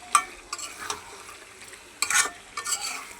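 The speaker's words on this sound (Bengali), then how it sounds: "এখন ভালো করে কষাই নিতেছি" Meat and a few potato pieces are stirred in a frying pan, giving soft intermittent scraping and sizzling bursts at a low level, with no voices.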